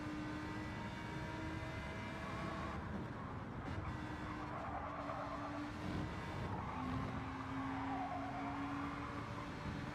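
A race car engine in Gran Turismo 7 at Kyoto drones steadily for the whole stretch, with the revs rising and falling several times as the driver pumps the throttle. Faint tyre squeal mixes in, and there is no talk.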